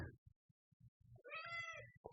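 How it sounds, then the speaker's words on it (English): A little cat that turned up at a house meows once in a drawn-out, clear call, preceded and followed by soft low thumps, with no talking. "A little kitty cat showed up."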